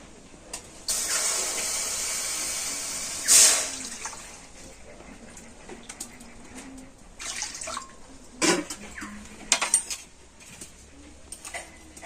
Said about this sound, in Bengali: আমি দু বাটি জল কড়াতে দিয়ে দিচ্ছি